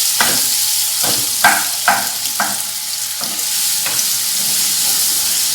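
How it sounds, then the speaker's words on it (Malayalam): Ripe plantain and cashews sauté in a pan with a steady, loud hissing sizzle. Several sharp scraping clicks from stirring break through at irregular intervals, with no voices. "ഏത്തപ്പഴവും അണ്ടിപ്പരിപ്പെല്ലാം നന്നായിട്ടൊന്ന് വഴന്ന് വന്നിട്ടുണ്ട്"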